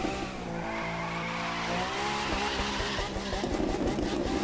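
A car in The Crew 2 racing game drifts with sustained tire squeal over a revving engine, loud and continuous, while a voice talks in the background.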